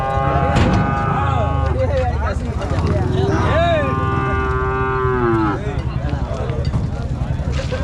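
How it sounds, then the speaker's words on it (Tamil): A calf at a village cattle market moos in a long, rising and falling call, loud and close, with other cattle lowing and someone talking over the crowd noise. "நல்லா அருமையாக இருக்குது கண்ணுக்குட்டி"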